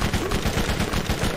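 Rapid gunfire from a shotgun and assault rifle in the shooter game Borderlands, a dense run of loud, closely spaced shots lasting about a second and a half with no gaps.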